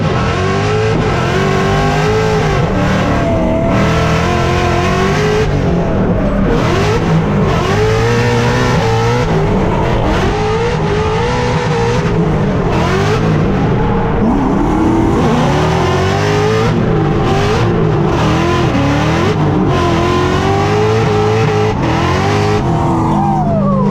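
A Formula D Mustang race car laps Texas Motor Speedway, its engine loud and close as it revs hard, drops off and climbs again through repeated shifts and corners, with some tire noise.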